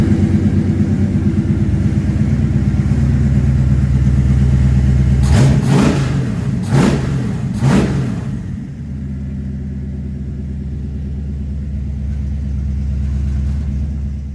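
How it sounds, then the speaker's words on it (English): A carbureted car engine run through an MSD timing box idles with a loud, steady low rumble, broken near the middle by three short sharp blips of the throttle before it settles back to a lumpy idle. "So that's how I'm able to run the carburetor, and it sounds like this."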